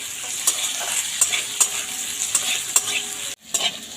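Spices and shelled peanuts frying in a pan, a loud continuous sizzle with regular scraping strokes of a spatula about every half second, briefly cutting out near the end before resuming.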